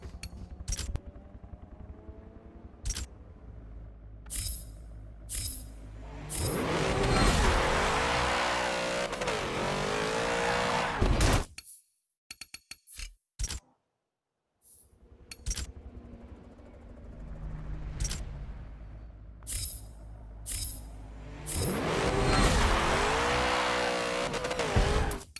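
Porsche 906 race car in a video game launching twice, engine revving hard and rising in pitch with brief tire squeal, a short lull between runs, loud and close with no talk.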